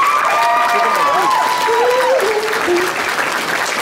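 An audience applauds loudly and steadily for the cosplay contest winners at Evillecon 2013, with a few cheers and whistles rising over the clapping throughout.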